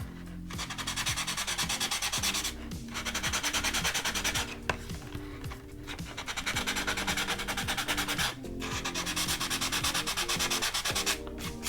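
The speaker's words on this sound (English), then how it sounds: "I do want to scuff these areas up a little bit so we're able to get glue directly into the cardboard." Sandpaper scuffs the cardboard body tube of an Estes Vogel model rocket in rapid back-and-forth strokes, a close, rhythmic rasping in several bursts separated by short pauses.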